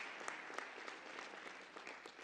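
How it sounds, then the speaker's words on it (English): Graduation ceremony audience applauding for the new health sciences graduates, a steady dense wash of many hands clapping with a few sharper close claps standing out, sustained throughout at moderate distance. "Let's clap for you."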